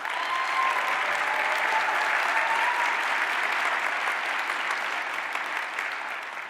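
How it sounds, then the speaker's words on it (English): A room full of people at a corporate investing product showcase applauds for several seconds, a dense, even wash of clapping that tapers slightly at the end. "Please give him a round of applause."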